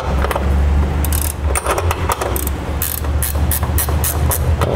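Ratcheting wrench tightening a B and W fifth wheel hitch bracket on a 2007 Toyota Tundra, a steady run of loud, close metallic clicks in quick repeated bursts over a dense mechanical clatter throughout.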